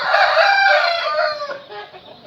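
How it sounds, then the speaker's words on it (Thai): A rooster crows loudly and close, one long drawn-out call that trails off into softer clucking. "ต้องขออภัยเสียงไก่เสียงอะไรรบกวนนะ"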